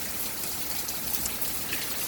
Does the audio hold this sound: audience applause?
no